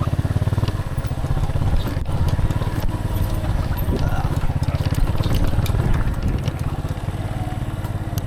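A motorcycle engine idles with a steady, throbbing low rumble, close by, while people talk over it, near Calangan Springs waterfalls in La Castellana, Negros Occidental.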